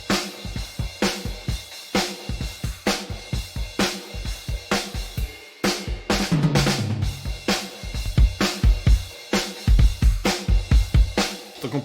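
A raw bass drum from the Riot Drums plugin by Ugritone, with no EQ or compressor, thumps in a fast steady pattern together with cymbals and other kit hits, loud and continuous throughout.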